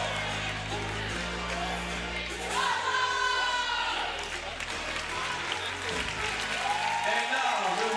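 Crowd applause at a FIBA 3x3 basketball Europe Cup final in Copenhagen, steady clapping across the whole stretch beneath a loud announcer's voice over the arena speakers.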